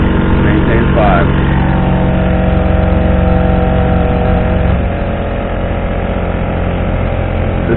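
A Honda 35cc outboard engine on a Nucanoe Frontier 12 kayak with a solid transom bracket drones steadily up close at a relaxed cruising speed. A voice talks over it, and the tone drops slightly partway through.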